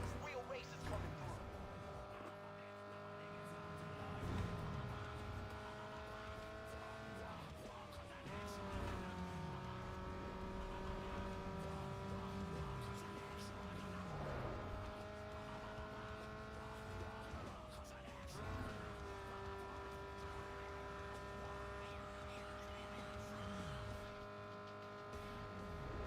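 Race cars in a racing video game: steady engine drone with pitch rising and falling through gear shifts, plus passing cars and tire noise, under someone talking throughout.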